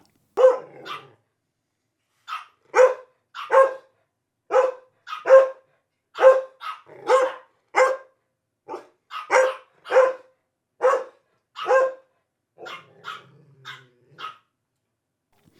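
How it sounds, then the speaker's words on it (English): Belgian Malinois dogs bark repeatedly, loud, sharp barks in irregular bursts with short gaps, close to the listener and with no talking. "I recorded my dogs barking. Here's what it sounds like."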